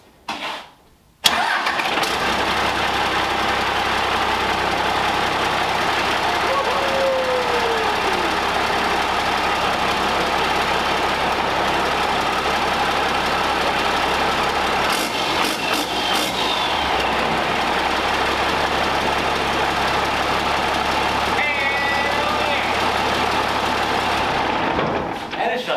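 A 12-valve Cummins diesel swapped into a Ford F600 truck starts after a short burst and then idles for the rest of the clip, with a steady, loud, low rumble and a few brief rattles near the end.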